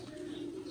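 A single short, low pigeon coo rises from a breeder's loft holding around 35 pigeons, including several white birds, heard close and alone.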